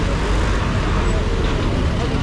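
Road traffic on Haile Selassie Avenue in Nairobi, a dense continuous roar of vehicles and engines close by, steady and loud with no clear pauses.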